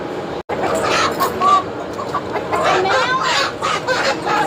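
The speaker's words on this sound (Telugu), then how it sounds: "మా కోడిలు చూడు లోపల పోవడానికి ఎంత సతాయిస్తున్నాయి" Chickens cluck close by, fussing and squawking in repeated bursts while a person talks over them, with steady outdoor background noise throughout.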